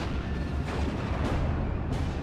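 A Panzer 35 tank firing in the World War II strategy game Steel Division: Normandy 44, Bois de Limors map: heavy booming shots blurred into a dense, continuous roar of battle noise, loud throughout.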